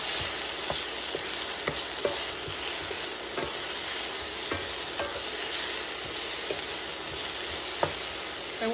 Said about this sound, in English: we're just going to let this saute for like 2 to 3 minutes